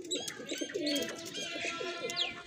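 A pigeon coos softly and repeatedly at close range, with faint chirps from other birds nearby and no talking.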